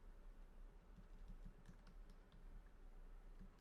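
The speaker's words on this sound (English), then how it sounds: "Sorry for typing." Fast, irregular keystrokes on a computer keyboard with no one speaking, faint and close by, a light patter of clicks running steadily through the whole stretch.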